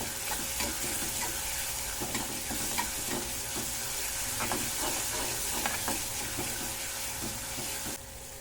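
Green chillies fry in oil with a steady close sizzle, while a spoon scrapes and taps the pan in irregular strokes; the sizzle drops off near the end.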